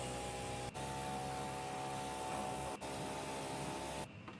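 Chemical cleaning liquid sprayed hard through the coil of a 10 TR Carrier air handling unit, a loud steady hissing rush that runs almost unbroken, with two brief cutoffs and a stop near the end.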